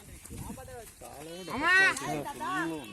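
Several sheep bleat close by in wavering, overlapping cries, one loud bleat standing out in the middle, with people talking underneath, during vaccination.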